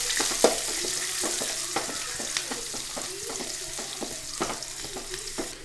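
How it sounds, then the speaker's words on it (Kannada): Onions and curry leaves stirred and frying in a pan for chicken liver masala, with a steady sizzle broken by repeated scraping strokes of a spoon, close and moderately loud, with no talk. "ಈರುಳ್ಳಿ ಹಾಕಿದ ನಂತರ ಒಳ್ಳೆ ಮಾಡಿ ಫ್ರೈ ಮಾಡಬೇಕಾಗತ್ತೆ."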